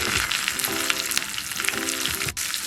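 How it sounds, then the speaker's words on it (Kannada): Crackling sizzle of spices and curry leaves frying in hot oil for tempering, with faint stirring clinks, steady and close. "ಒಗ್ಗರಣೆ ಇವಾಗ ಕಿಟ್ಬಿಟ್ಟು ಅಂದರೆ ಚೆನ್ನಾಗಾಗಲಿ"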